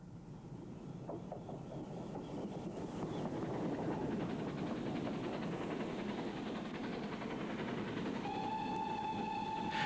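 A large Prairie class steam locomotive hauls a train on the line from Bearley and Stratford, its rumble and clatter building louder, then a sharp whistle sounds near the end.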